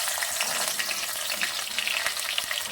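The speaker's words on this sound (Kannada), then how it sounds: "ಹಾಕ್ತಾಯಿದ್ದೀನಿ ನೋಡಿ, ಬೆಳ್ಳುಳ್ಳಿ ಅಷ್ಟು ಹಾಕ್ತಾಯಿದ್ದೀನಿ" Garlic sizzles steadily in hot oil, a loud, close, continuous crackle and spit with occasional sharper pops, alone and with no voices.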